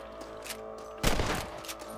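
A single loud rifle shot rings out while hunting rabbits in Red Dead Redemption, a sharp crack with a short tail, set against a quiet steady ambient background.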